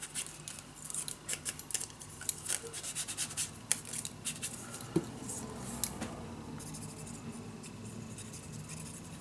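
Scissors snip through paper for a mini album craft project, making a rapid series of close crisp cuts and rustles that trail off into quieter handling. No voices are heard.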